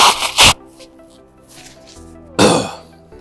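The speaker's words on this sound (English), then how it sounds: "I'm going to blow my nose and have a cough." A short nose blow and cough at the start, a quiet pause with faint rustling, then another loud cough close by.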